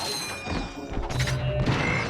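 Mines blowing up on enemies in the Ratchet & Clank video game give two sharp, crunching bursts close together over a busy layer of game noise.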